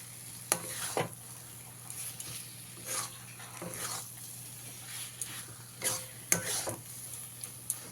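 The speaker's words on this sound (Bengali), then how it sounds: "এবারে এর মধ্যে দিয়ে দেবো ভেজে রাখা আলুগুলোকে মশলার সঙ্গে খুব ভালো করে মিশিয়ে দেবো।" A spoon stirs fried potatoes into spice masala in a pan for a Bengali katla fish curry, with scraping strokes and soft sizzling at an even pace, and a few sharper knocks against the pan.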